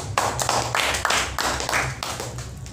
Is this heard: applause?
yes